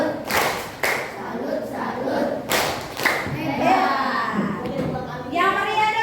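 Children clap out the tepuk salut chant in a school classroom, bursts of rhythmic hand clapping with chanted voices, then an adult voice talks and a child's call rises near the end.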